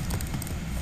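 A short run of quick, soft taps on a computer keyboard, closely spaced and steady, heard nearby over a noisy background.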